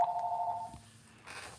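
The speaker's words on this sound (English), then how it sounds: "This phone is gonna keep ringing." A shop telephone rings with a clear, steady electronic tone in a short burst, then falls quiet into low room noise before a brief rustle of background activity.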